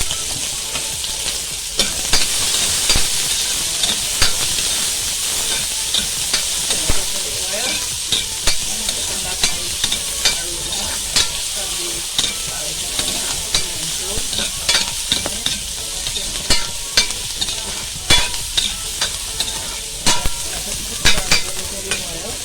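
Garlic, onion and pimento fry in oil in a pot while being stirred Caribbean-style, a steady sizzling hiss broken by repeated scraping thuds of stirring throughout, with no talking.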